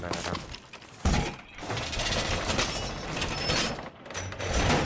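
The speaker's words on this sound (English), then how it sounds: "Make sure we shoot glass." Glass shatters from gunfire in a first-person shooter video game, with loud, crashing bursts and breaking noise over continuous game action while players talk.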